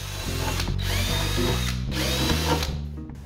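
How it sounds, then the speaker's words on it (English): A power drill bores guide holes for screws into wooden tool-holder pieces, its motor whining loud and close in three short bursts that rise and stop between runs. "Now using your marks, drill guide holes for the screws."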